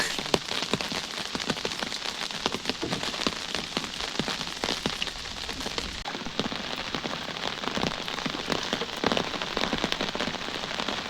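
Heavy rain falls in a riverside village during the monsoon, a dense, steady patter and hiss of drops hitting surfaces, loud and unbroken with no voices.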